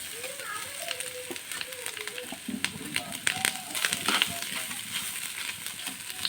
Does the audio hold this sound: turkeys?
no